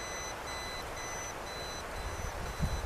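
An inductive voltage tester held near live power beeps in a steady, even rhythm. The short, repeated electronic tones sit over a constant background hiss.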